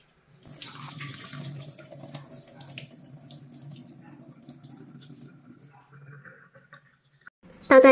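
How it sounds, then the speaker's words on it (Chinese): Tap water runs over soaked glutinous rice in a bowl, a steady splashing trickle with small drips that gradually thins out, close and fairly quiet, then a brief louder clatter at the end; no talking. "倒掉水之后再清洗清洗。"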